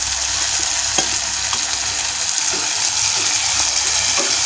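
Sliced green onions frying and being stirred in a pan for sambal pacul, a steady close sizzle with soft scraping stirs throughout.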